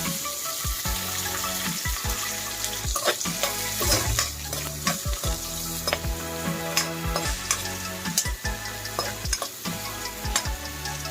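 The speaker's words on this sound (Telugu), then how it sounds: "బాగా ఘీలో మంచిగా రోస్ట్ చేసుకోవాలి." Cashews and onions frying in ghee in a pan, a loud continuous sizzle close up with repeated stirring scrapes and knocks at an uneven rhythm throughout.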